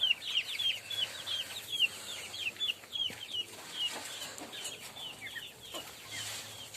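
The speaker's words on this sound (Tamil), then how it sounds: "அதெல்லாம் கருங்கோழிங்க, அதெல்லாம் பெருஞ்சாதி கோழிங்க." A flock of native country chickens, including black-feathered birds, cluck and chatter steadily, with several birds calling over one another at moderate distance, no talking.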